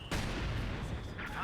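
A mortar blast in a Company of Heroes 2 match, a sharp boom followed by a rumbling decay under the game's busy battle noise.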